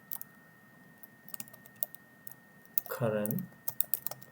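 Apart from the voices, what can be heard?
typing a tag name on a computer keyboard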